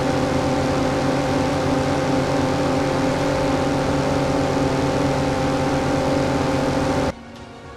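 A bike and a Coupe RV vehicle in PUBG racing at maximum speed, their engines roaring loud and steady with a constant whining drone that cuts off abruptly near the end.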